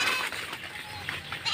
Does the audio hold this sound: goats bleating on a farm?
yes